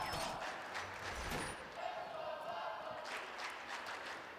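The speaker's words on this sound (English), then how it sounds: "Can hear the crowd there, getting more and more hype as every round that Falcons win." Crowd noise at the Gamers8 Rainbow Six Siege grand final stadium, a broad steady roar of cheering with some applause, continuous and fairly loud across the whole stretch, with no talk over it.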